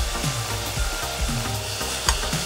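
Ground meat browning in a pan with black pepper and liquid seasoning, a steady close sizzle and fry with rhythmic scraping and stirring strokes throughout.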